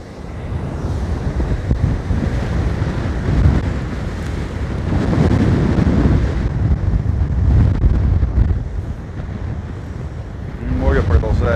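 Storm at the seashore: heavy sea waves break and surge under strong gusting wind that buffets the microphone in a steady loud roar, with a voice briefly heard near the end.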